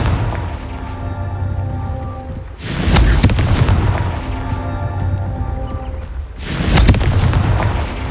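Two heavy booming blasts from the Confringo fire spell in Hogwarts Legacy, each a loud broadband burst about four seconds apart over a steady layer of game ambience and music, with no talking.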